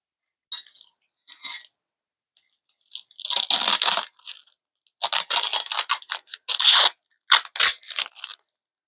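Tape on a package is cut so the package can be opened. Sharp bursts of scissor snips and tape tearing come close and loud, split by short silences, with a denser run of cutting near the end and no talk.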